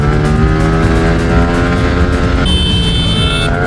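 The engine of a 2024 Aprilia RS 457 motorcycle runs hard at high speed on a track. Its loud, steady drone climbs in pitch, shifts with a gear change partway through, then carries on, with strong wind roar throughout.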